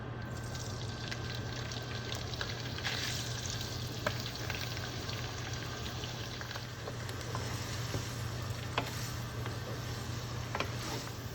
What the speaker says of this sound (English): add 6 tablespoons oil in the pan and fry them until light brown